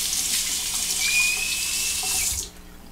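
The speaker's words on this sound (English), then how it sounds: "now we'll perform a quick rinse" A bathroom tap runs steadily into a sink while a razor is rinsed during shaving, giving a close, even hiss that cuts off near the end.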